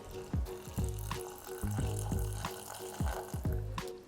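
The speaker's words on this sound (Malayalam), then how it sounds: "ഇനി നമുക്കിതിലേക്ക് വെള്ളം ചേർത്ത് കൊടുക്കണം" Half a glass of water pours steadily into a pot of sweet corn, with a continuous splashing flow and a few clunks of cookware, close by.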